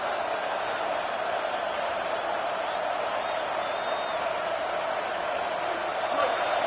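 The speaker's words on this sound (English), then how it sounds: "Decibels rising as the crowd gets behind this defense on 3rd down" A large stadium crowd at a college football game roars in a dense, steady wash that swells slightly toward the end as the defense lines up on third down, with a commentator's voice faint beneath it.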